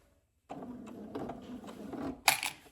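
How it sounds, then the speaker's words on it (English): A sewing machine runs a steady stitch along the binding edge of a quilted potholder. It starts after a short silence, holds an even mechanical whir close by, and ends with a louder burst. "now we're gonna run a stitch along the edge of that binding"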